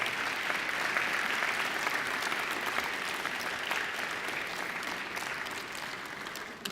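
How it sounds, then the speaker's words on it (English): A graduation ceremony audience at Macquarie gives sustained, close, full applause, a dense steady roar of many hands that eases only slightly toward the end. "give them a mighty round of applause"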